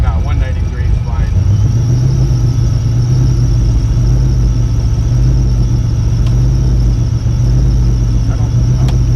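Ford F150 prerunner truck engine barely idling, a steady low rumble with a faintly wavering tone that sags as if near stalling, loud and close throughout, with people talking over it.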